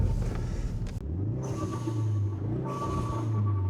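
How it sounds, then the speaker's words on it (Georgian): A big-turbo Ford Focus RS with sport exhaust drives by or accelerates, a deep, close engine rumble that rises and falls in pitch through gear changes, with a brief gap and a rasping exhaust note. "ისეთ ადგილას, სადაც შევძლებთ რომ თავისუფლად მოგასმენიოთ ამ მანქანის ხმა."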